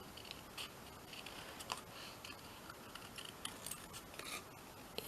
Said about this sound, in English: Let's cut this little one out here.